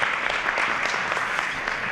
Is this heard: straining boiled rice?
no